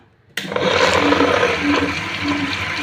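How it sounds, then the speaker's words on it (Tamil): A wet grinder starts up, grinding soaked urad dal and sago with a little water for idli batter; a sudden loud onset followed by a steady churning, sloshing whir. "இப்போ நம்ம ஒரு பத்து நிமிஷம் அரைச்சிப்போம்"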